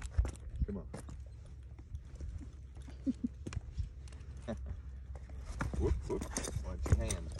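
A three-year-old Arabian cross gelding walks on ground with soft, irregular hoof clops. The steps are fairly faint and sit under a voice and background noise.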